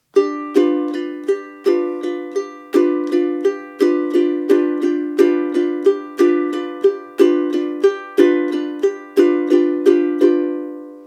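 A ukulele plays split strokes, bright strummed chords in a steady two-measure pattern of quick down-up strokes with sharp rhythmic accents, close and clear, ringing out at the end, no voice.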